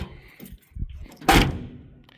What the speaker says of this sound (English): Let's get the door closed and see how it sounds